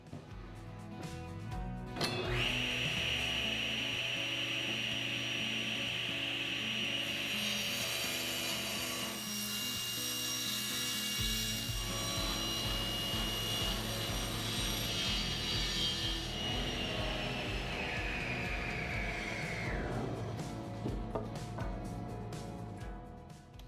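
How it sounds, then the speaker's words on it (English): A table saw rips 2x4 boards to width, the blade spinning up to a loud steady whine that holds through the cut, shifting in pitch as the wood feeds through, then winding down at the end. "I'll get started by cutting the 2x4s to length, and then over at the table saw,"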